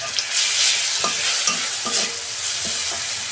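Garlic hits onions already frying in oil in a pan and sizzles loudly and steadily up close, with a few scrapes of the spoon stirring through it.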